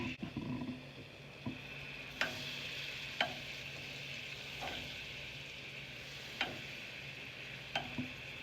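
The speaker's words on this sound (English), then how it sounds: "Saute up some garlic until it gets soft." Sliced garlic sautéing in melted butter in a pan, a steady soft sizzle with light scraping clicks from stirring every second or so.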